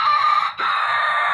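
Chickens and a rooster on a poultry farm crow and cluck loudly and close, a sustained crowing call that briefly breaks before carrying on, with soft clucking underneath.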